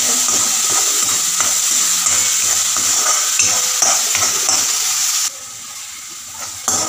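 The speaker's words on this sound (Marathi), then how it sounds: "याला घेते परतवून" Vegetables with turmeric and salt are sautéed in a pan, giving a loud, close, continuous sizzle with repeated stirring scrapes. The frying drops noticeably quieter near the end, with no speech.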